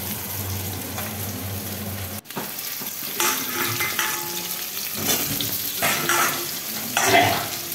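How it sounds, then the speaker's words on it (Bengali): Potatoes fry in hot oil with tempering spices, giving a steady close sizzle broken by a sharp clatter and stirring scrapes, with no voices. "তেলে প্রথমে ফোড়ন দিয়ে দেওয়া হয়েছে, ফোড়ন দিয়ে আলুটা ভেজে নিচ্ছি।"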